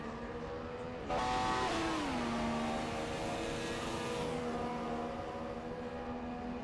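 Formula 1 race cars in a video game qualifying session, a loud engine note that jumps in and holds steady, its pitch sliding down as the car shifts and passes, no talk over it.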